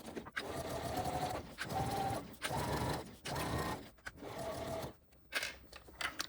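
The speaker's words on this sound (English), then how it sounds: "then I will back stitch at both the beginning and the end using a shorter stitch length" Sewing machine back stitching along a curve with a shorter stitch length, running in several short, fast bursts of steady mechanical whirring separated by brief pauses, close and fairly quiet.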